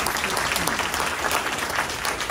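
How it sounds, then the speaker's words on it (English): Audience applause at a town hall on gun violence prevention, a dense, steady wash of many hands clapping continuously and fairly loud throughout. "Give a round of applause for our"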